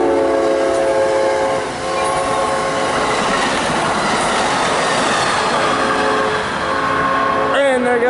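Amtrak 91 passenger train passing close and loud, with a continuous rumble of wheels and rail noise, sustained horn-like tones throughout, and a squeal near the end.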